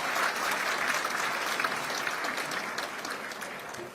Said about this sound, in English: Let's thank him again with a round of applause.